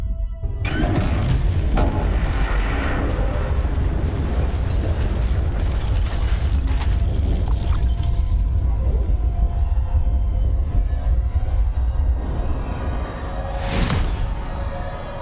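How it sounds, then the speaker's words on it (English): A huge explosion splits the sky in the video game Borderlands 3, a loud sustained boom and rumble with debris and whooshing that rolls on for many seconds before thinning out. "you mean the big damn explosion that lit up the sky?"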